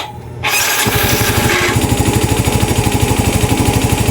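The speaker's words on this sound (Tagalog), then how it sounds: "Pandarin ko yung motor. Pandarin ko yung engine." A Yamaha Mio i 125 scooter with a smoky, misfiring engine cranks and catches after a short quiet moment, then settles into a loud, close, rapid and evenly pulsing idle.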